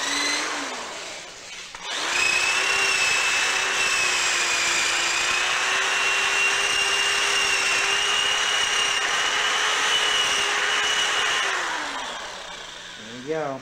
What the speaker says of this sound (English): we can kind of work with this drill here